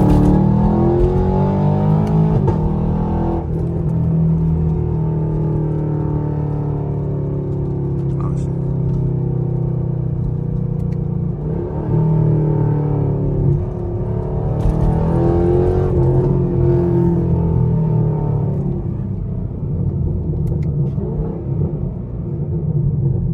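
A straight-piped 2017 Camaro SS V8 rumbles loud and close at night, its deep exhaust drone holding steady with a few revving swells, while people talk over it throughout.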